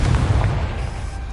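A Confringo fire spell bursts in Hogwarts Legacy with a deep, loud boom that hits at once and then rolls away into a fading rumble. The single blast stands alone with no voices over it.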